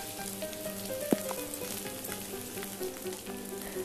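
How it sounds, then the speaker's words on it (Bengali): Potato pieces and drumstick (moringa) pods sizzle steadily in hot oil as they are stirred with salt and turmeric, a continuous close frying crackle with one sharp clink of the spoon against the pan. "নুন আর হলুদ গুঁড়ো দিয়ে আগে খুব ভালো করে আবারও আমি নাড়াচাড়া করে নিচ্ছি।"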